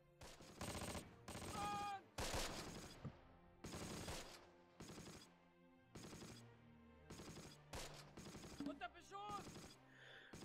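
Gunfire in the Close Combat wartime strategy game on the Ravenstein map, with repeated bursts of automatic and rifle fire in uneven clusters at moderate distance, and someone talking between and over the shots.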